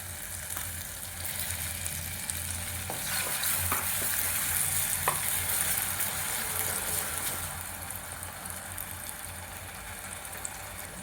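Tomato paste sautéing in a pan for dudhi kofta curry gives a continuous, even frying sizzle with a few soft stirring taps along the way.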